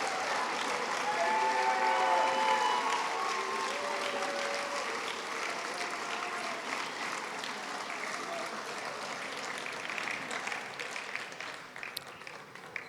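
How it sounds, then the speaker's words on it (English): Crowd at a high school football championship reception applauding parents, a sustained round of clapping with some cheering and voices, gradually tapering off toward the end. "You can stand up for a couple seconds and give them a round of applause"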